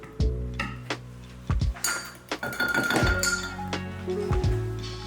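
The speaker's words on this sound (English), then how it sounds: "Cleaning off my knife." A palette knife being cleaned off during painting: a series of metallic clinks, taps and thunks, close and fairly loud, with bright ringing tones between the strikes.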